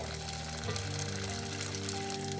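Crab rangoons frying in a pan of hot oil, a steady close sizzle and bubbling with a faint low hum underneath, no talking.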